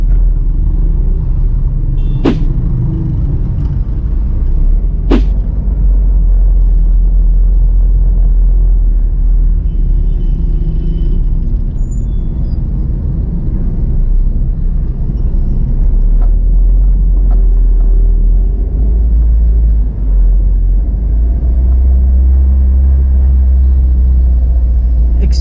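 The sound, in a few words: busy street traffic on C.M. Recto Avenue, Cagayan de Oro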